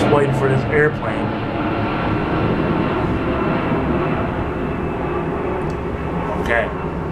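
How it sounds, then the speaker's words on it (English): A fixed-wing airplane passing overhead, a steady broadband roar that holds at a constant level throughout, with a voice briefly audible near the start. "Just waiting for this airplane."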